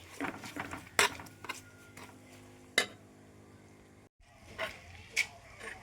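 A spoon stirs coriander paste for curry in a pan on low flame, with soft scraping broken by a few sharp metallic clinks and a brief pause, quiet and close.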